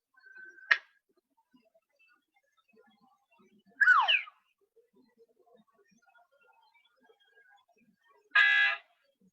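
A cartoonish car horn honk from the Scratch coding sound library, played as a few short, separate sound bursts with silence between them, including a sliding squeaky tone and a brassy buzzing honk at the end.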